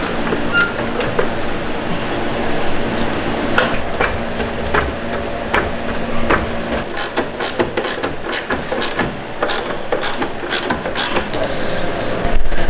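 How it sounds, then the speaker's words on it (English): A jack raising the suspension of a VW T4 van during lowering work, producing a steady run of mechanical clicks and ratcheting strokes up close, growing denser and sharper toward the end, with no talk. "Now I'm going to jack it up."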